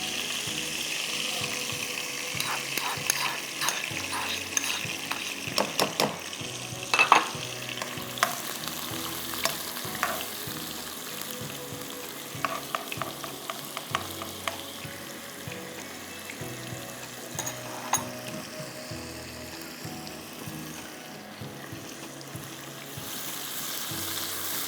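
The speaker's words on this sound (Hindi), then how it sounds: "और इसमें हम फ्राई करेंगे प्याज।" Chopped onion fries in a pan with a continuous close sizzle. Scattered sharp clinks and scrapes of stirring break through it now and then.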